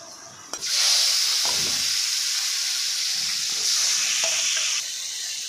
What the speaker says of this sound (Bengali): এবার চিংড়ি মাছটাকে একটু ভেজে নেব।